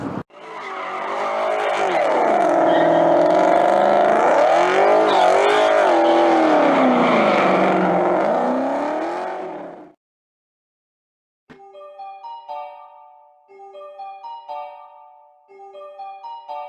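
2020 Ford Mustang Shelby GT350 engine revving hard, a loud rising and falling roar for about ten seconds that cuts off abruptly, followed by a short silence and then a few plucked musical notes.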